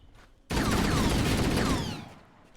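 Gunfire in the shooter game Halo CE, a loud burst of rapid shots with whooshing, sweeping weapon sounds lasting about a second and a half before fading out.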